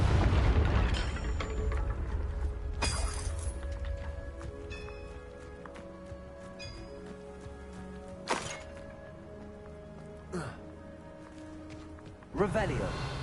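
Incendio and Confringo spell blasts in Hogwarts Legacy, a heavy boom at the start, then several sharper bursts and whooshes scattered through the clip over game ambience, with a voice speaking between them.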